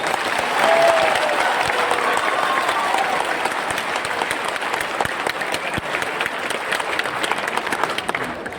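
Hall audience at a Samrat Ashok birth anniversary celebration at Krishna Memorial, Patna, clapping loudly and continuously, a thick roar with sharper individual claps sticking out near the mic.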